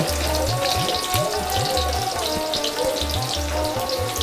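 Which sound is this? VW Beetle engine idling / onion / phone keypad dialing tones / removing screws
onion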